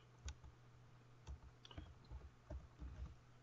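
Quiet, close computer keyboard typing with irregular clusters of light key clicks and a few isolated taps, recorded alongside a faint steady hum in the room.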